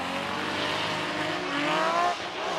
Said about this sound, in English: Ooh, the car sounds really bad.